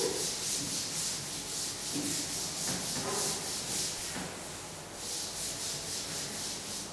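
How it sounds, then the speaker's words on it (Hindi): An eraser or duster rubs across a classroom board, a steady scratchy back-and-forth scrubbing that continues for several seconds, close and alone without speech. "अब मैं इसे रब करके फिर आपको दोबारा समझाती हूँ"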